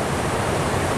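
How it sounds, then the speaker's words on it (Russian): Torskol waterfall in the Elbrus region roars close by as a loud, continuous broadband rush of falling water with no pauses. "Практически подошли к водопаду Торскол, он сзади меня"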